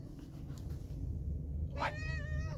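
A house cat gives a short, squawky cry near the end, a rising harmonic call that comes after a stretch of quiet room hum. The cry is close and moderately loud, and nobody speaks.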